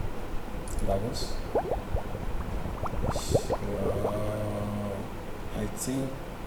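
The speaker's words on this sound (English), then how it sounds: "Bubbles." The bubbles sound effect from the Scratch sound library plays as a quick series of bubbly blips and rising pops, moderately quiet and scattered irregularly over a low background.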